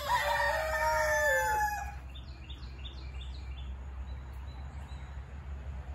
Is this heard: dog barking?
no